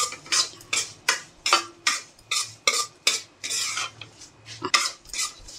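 Moong dal halwa with cashews and almonds is roasted in ghee, a spoon scraping and knocking the pan in a steady rhythm of about two strokes per second, with a light sizzle underneath.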